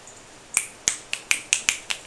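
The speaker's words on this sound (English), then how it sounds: "Finger snaps all around the room." A room full of people snap their fingers in an uneven series of about eight crisp, sharp snaps spread over two seconds, close and clear against near silence.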